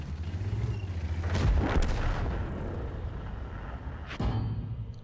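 Tank cannons fire in World of Tanks, with a T-34-85 shooting: a few heavy, close booms, two near together and a third a little later, each trailing into a low rumbling decay.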